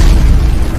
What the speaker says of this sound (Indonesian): dan hasilnya pun meledak.